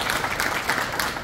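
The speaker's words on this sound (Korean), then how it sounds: "박수 한번 주세요." A brief burst of applause at a provincial football association meeting in Gyeonggi-do, a close, steady patter of clapping from a modest group.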